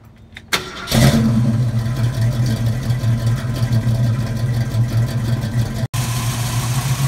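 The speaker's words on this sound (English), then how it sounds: "we got a 68 Ford Mustang, 351 Windsor, long tube headers, true dual 2¼-inch exhaust with Flowmaster 40 mufflers" A 1968 Ford Mustang's 351 Windsor V8 with long-tube headers, true dual 2¼-inch exhaust and Flowmaster 40 mufflers cranks, fires up and settles into a loud, lumpy rumble close by, with no talking over it.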